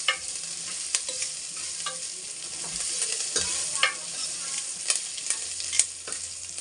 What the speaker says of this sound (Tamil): ரசத்துக்கு ஃப்ரை பண்ணிக்கிறேன்.